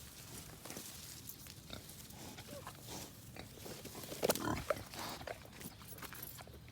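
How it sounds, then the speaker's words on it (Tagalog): Piglets of a Pampanga native cross Quezon Black pig, nine in the litter, hidden among leaves on a farm, give scattered soft grunts and squeals with rustling over low outdoor background noise. "siyam po ang kanyang naging biik."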